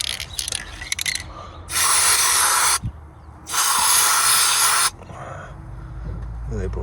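White grease sprayed onto a BMW driveshaft, two long, loud, steady hissing bursts of about a second each from an aerosol can up close, with talk in the quieter parts before and after.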